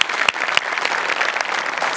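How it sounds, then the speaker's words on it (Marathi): Loud applause from a studio audience at a Marathi comedy sketch show, dense steady clapping filling the whole stretch with a few sharper accents. "जोरदार टाळ्या."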